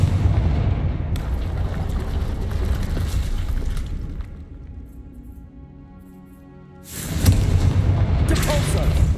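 A Confringo blasting spell in the game Hogwarts Legacy produces loud, rumbling booms that roll on for several seconds, fade into a quieter musical lull, then surge back with another heavy burst.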